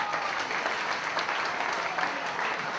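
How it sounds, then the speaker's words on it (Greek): An audience applauds at a sports team event, with dense, steady clapping from many hands that holds at an even level throughout. "Ένα μεγάλο χειροκρότημα."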